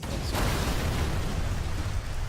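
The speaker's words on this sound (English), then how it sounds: "There's our explosion." A video game explosion in Arma 3 sets off a thick, sustained rumbling roar with a sharp burst near the start, loud and continuous from start to end with no voices.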